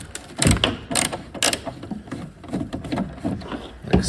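Screws being undone from the back of a worn Ryobi 40V electric snow blower's blade bar, with repeated close clicking and ratcheting bursts and light handling noises throughout.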